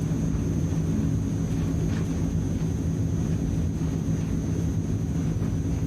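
A Transall transport aircraft takes off in a flight simulator, its engines giving a steady, droning low rumble with a faint high whine above, constant throughout with no voices.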